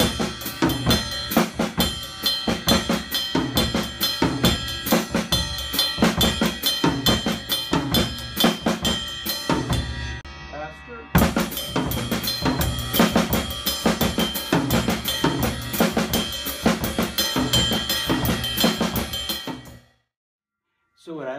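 A hand-played drum groove on a small tom with bass drum added, a dense, steady funk pattern of rapid strokes and flams running throughout, pausing briefly midway and stopping near the end.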